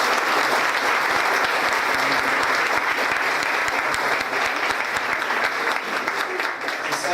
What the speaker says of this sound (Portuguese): Uma salva de palmas para o Padre Jaime.